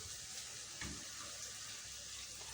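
Water pours into a cooking pot over tomatoes already sautéed in it, a faint, steady rushing with a brief louder splash near the start.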